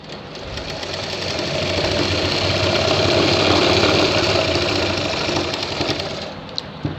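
A sewing machine hums continuously for several seconds while stitching the back and shoulder seam of a shirt, steady and close with a rapid needle rhythm, then slows to a stop.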